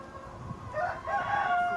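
A rooster crows once, a strained, drawn-out call rising over a steady background hiss.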